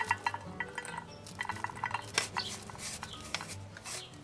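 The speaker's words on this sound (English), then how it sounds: "Just picking up a spoon to scrape the seeds out." A spoon scrapes the seeds out of a halved papaya, making soft, close, repeated scraping and light clinks at low volume.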